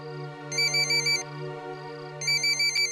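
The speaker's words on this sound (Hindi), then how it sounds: "चौधरी साहब का फोन।" Telephone ringing in a household scene: an electronic ringtone in two bursts of rapid trilling rings over a steady sustained tone, loud and alone with no voices.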